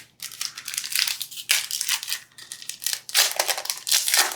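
A Magic: The Gathering trading card booster pack is torn open up close, giving loud, crinkly foil rips and crumpling bursts that come in several waves over a few seconds, with no talking.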